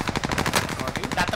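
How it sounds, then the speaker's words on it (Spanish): Dense automatic gunfire in the Warzone battle royale video game, rapid continuous bursts crackling at close range with barely a pause for over a second. "De atrás me disparan."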